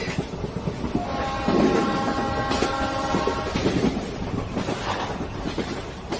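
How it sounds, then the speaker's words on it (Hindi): A train runs straight through a station without stopping, a steady loud rumble of wheels with sustained horn-like tones through the middle, plus some wind buffeting; no speech. "स्टेशन तो निकल गया, लेकिन ट्रेन तो रुकी ही नहीं।"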